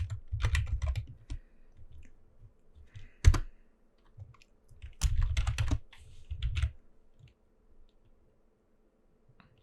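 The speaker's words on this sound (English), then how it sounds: "press T and type in your text" Quick bursts of typing on a computer keyboard, clustered clicks separated by short pauses, close and fairly quiet with no talk.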